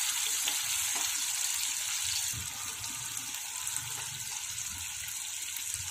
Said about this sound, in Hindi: अब इसमें 2 कटे प्याज डाल देंगे।